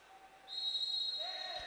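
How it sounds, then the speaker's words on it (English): A referee's whistle at a water polo match between Hong Kong and Thailand, one long steady shrill blast sounding over faint arena crowd noise, fairly distant. "The whistle comes."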